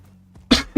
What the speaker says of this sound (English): sorry for the cough if you heard that.